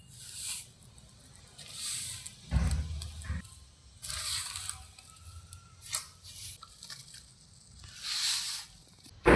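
Pani puri dough being kneaded and lightly slapped by hand, soft squishy presses and sharper slaps in an irregular rhythm, fairly close and quiet.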